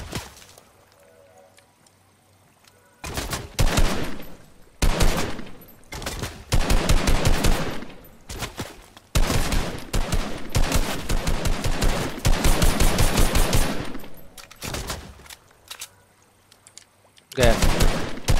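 Rapid automatic gunfire from behind in the Fortnite video game bursts loudly in several long rattling volleys, separated by short quiet gaps.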